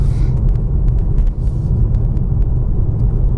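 A BMW M2 Competition in its M1 drive setting cruises along a favourite stretch of road, with a steady, loud low engine and road rumble running throughout and faint ticks on top.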